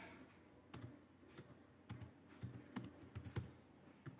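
Typing on a computer keyboard in a quiet room, a run of sharp irregular key clicks and taps coming in small bursts, close and fairly soft, with no talking.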